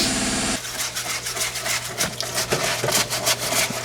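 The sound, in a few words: air compressor running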